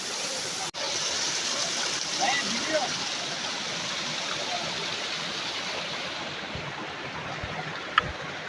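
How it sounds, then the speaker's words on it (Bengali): Rajai waterfall pouring down a hillside in Tahirpur, a loud, continuous broadband rush of falling water. It holds steady throughout, with a brief dropout and a small click. "তাহিরপুরের হৃদয়ে লুকিয়ে আছে রূপকথার মতো এক ঝর্ণা রাজাই ঝর্ণা"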